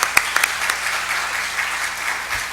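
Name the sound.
audience applause welcoming a speaker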